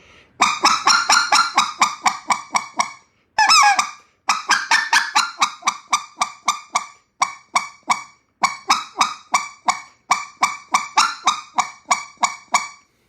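A goose call is blown in a rapid series of short single clucks, sharp honking bursts in steady rhythm with brief pauses between runs, loud and close.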